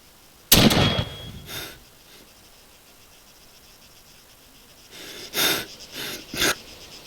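Asthmatic wheezing breaths from an injured soldier in the military game Arma: one loud rasping breath, a fainter follow-up, then quiet before three shorter wheezes near the end.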